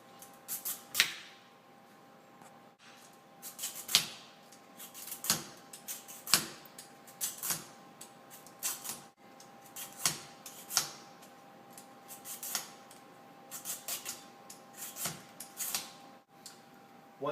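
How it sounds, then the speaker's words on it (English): A potato peeler scrapes down a butternut squash in a series of sharp, close rasping strokes, roughly one every second, with brief quiet gaps between them. "with a potato peeler, you just peel the entire squash"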